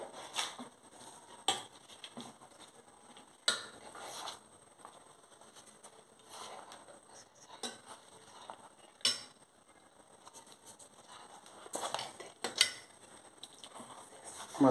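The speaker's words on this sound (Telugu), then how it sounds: "మొత్తం ఈ మిశ్రమాన్ని బాగా కలుపుకోవాలండి" A spoon stirs vermicelli dosa batter seasoned with salt in a bowl, making scattered soft clinks and scraping strokes in irregular bursts, close and fairly quiet, with no talking.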